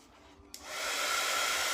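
A hair dryer drying a freshly worked journal page switches on after a quiet moment with a sharp click, then builds into a steady, loud whooshing roar.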